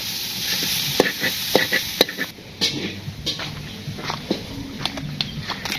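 Potatoes and vegetable stalks frying in a village kitchen pan, a steady sizzle with scraping stirs and clinks of the utensil in an irregular rhythm, close and moderately loud.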